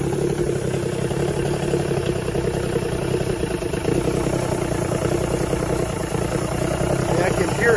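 A 1986 85 hp Force outboard motor on a Bayliner boat idles roughly and steadily at close range, its low engine drone and clatter sagging slightly as if close to stalling, with no talk over it.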